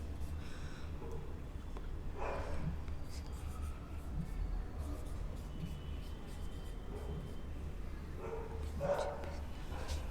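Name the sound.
writing math calculations by hand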